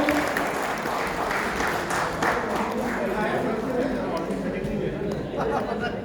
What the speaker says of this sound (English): Big round of applause for our volunteer.